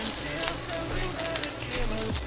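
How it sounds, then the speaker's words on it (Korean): Minced garlic frying in a generous amount of butter in a pan, a steady close sizzle with crackling pops and occasional stirring scrapes throughout. "버터는 이래도 되나 싶을 정도로 넣고 다진 마늘을 볶아요."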